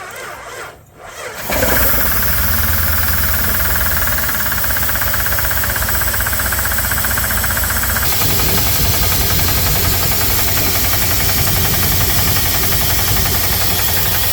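A troubled Jeep 4.7 V8 engine cranks over and starts, then runs steadily with a rough, knocking clatter and a high squeal riding over the loud, continuous engine drone.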